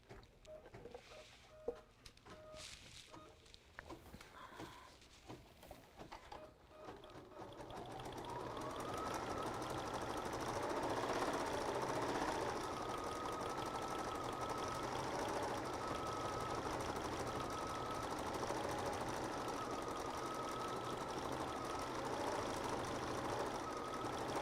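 A Kimberbell embroidery machine stitches a Storybook Pocket design, first a few starts and stops, then a steady, loud, even whirring hum with a faint tonal whine that runs without a break.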